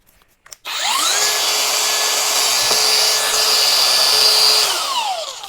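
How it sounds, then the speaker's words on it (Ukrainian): Cordless battery angle grinder from a tool-kit set switches on with a quick rising whine, then runs at a loud, steady high-pitched spin for several seconds before beginning to wind down. "Перший поверх це ось така болгарочка акумуляторна."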